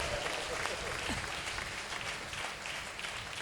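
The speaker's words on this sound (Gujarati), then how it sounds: "હાથ ઊંચા કરીને એની તાળી પાડવી પડેલા" Devotees clapping with raised hands at a Chaitri Samaiyo gathering in Vadtal, a dense, continuous wash of applause from a large crowd, steady and fairly loud throughout.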